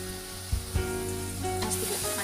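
Cumin and sesame paste frying in oil with browned onion for Kolhapuri mutton masala gives a dense, continuous sizzle, with two short scraping stirs early, close and steady, no talking.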